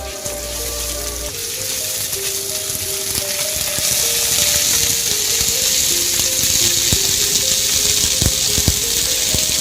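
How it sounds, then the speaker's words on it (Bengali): A garlic, ginger and cumin paste masala with a little salt and turmeric fries in a pan. A bright, steady sizzle swells after the first second and holds loud and close, with faint tonal hum beneath. "ভালো করে মশলাটা কষিয়ে নেব"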